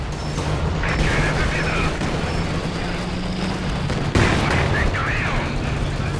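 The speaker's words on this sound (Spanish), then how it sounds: "Está la ametralladora de los tiradores." Machine gun fire in the Company of Heroes 2 strategy game during a 4v4 Wehrmacht match: continuous dense rattling gunfire and explosions in a loud battle din, with a voice briefly heard over it.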